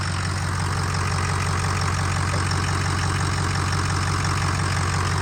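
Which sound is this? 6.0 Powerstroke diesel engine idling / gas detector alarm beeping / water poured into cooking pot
6.0 Powerstroke diesel engine idling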